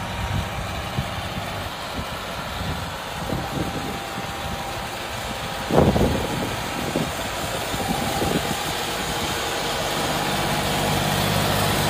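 A John Deere 5210 Gear Pro tractor fitted with a 15-tine cultivator runs with a steady diesel drone at moderate distance, holding an even idle with a brief knock partway through.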